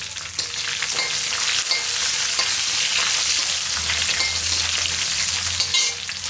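Garlic, curry leaves and shallots frying in oil for a dry-fish (nethili karuvadu) kuzhambu, a steady close sizzle with scraping stirs running throughout, no voices.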